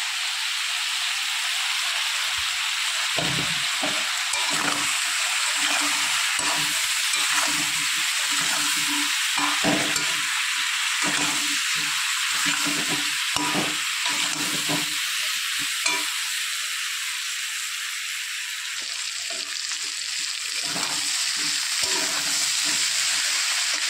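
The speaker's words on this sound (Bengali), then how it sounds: "মশলা আমি ভালো মতো কষিয়ে নিয়েছি।" Cumin, chilli and turmeric powders with meat masala sauté in hot oil, a loud continuous sizzle and hiss with frequent rhythmic stirring scrapes, close and with no talking.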